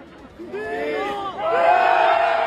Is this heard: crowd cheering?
yes